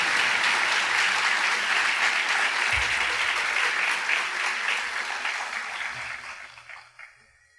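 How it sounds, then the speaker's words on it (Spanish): Applause fills a church as a congregation honors two churches and their pastors, loud dense clapping that gradually thins and fades toward the end, with a few low thumps mixed in. "démosle un fuerte aplauso también a cada uno de ellos"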